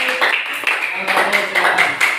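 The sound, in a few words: classroom clapping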